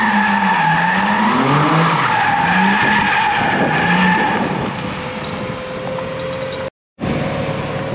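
A BMW M4 G82 Competition in drift mode skids its tires loudly, with squealing rubber and a roaring engine rising and falling close by for several seconds, then a steadier whine, a brief dropout, and more tire noise.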